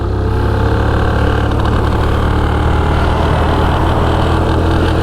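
Suzuki GAG 50 two-stroke motorcycle engine running spluttery and uneven, a loud close continuous drone with rough low pulsing and no voices.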